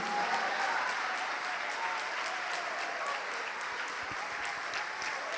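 A church congregation applauding, a dense, sustained roar of many clapping hands that holds evenly from start to finish, with a few sharper claps near the end and faint talk underneath.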